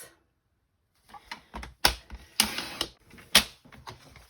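A paper trimmer slices cardstock for a handmade Valentine's card, giving a series of short, crisp cutting and clicking sounds close by, with no talk.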